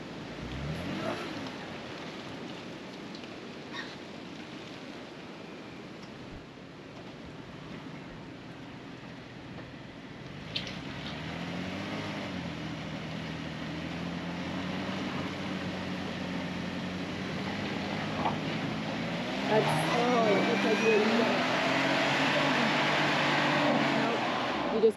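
A stuck vehicle's engine revs and strains while its wheels spin in a rut, a steady loud drone that rises near the end, with people talking over it.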